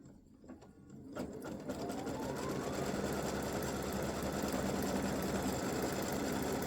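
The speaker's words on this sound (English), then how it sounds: "color stop number 5 is going to stitch a fill in here. So we're doing the stitching of the fill design." After a brief quiet start, an embroidery machine starts stitching a fill design and settles into a fast, steady mechanical chatter of needle strokes that carries on continuously at moderate loudness.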